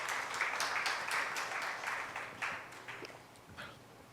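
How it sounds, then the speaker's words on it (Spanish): Church congregation giving a loud round of applause to the Lord, steady dense clapping that swells and then thins out over a few seconds, heard from some distance. "Dale un fuerte aplauso al Señor"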